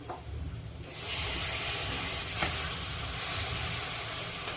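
Tomatoes dropped into hot spice masala for shev bhaji burst into a loud, sudden sizzle about a second in, then a steady close hiss of frying continues, with no talking.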